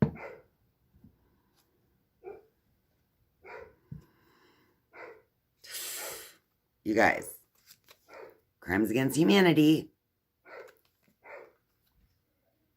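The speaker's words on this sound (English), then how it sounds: "My dogs are barking." Dogs bark now and then, several short barks and yelps, moderately near, between spells of a person talking quietly.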